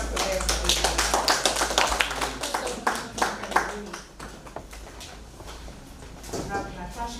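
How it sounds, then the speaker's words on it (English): Audience clapping for youth agripreneurs at a PELUM Kenya side event, a few seconds of uneven, moderately sized applause that tapers off, with people talking alongside. "Let's clap for them."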